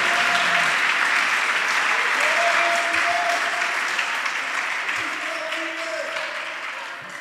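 A church congregation applauds in a steady, dense burst of clapping that fills the space, holding loud throughout and easing off slightly toward the end, with a few faint voices mixed in.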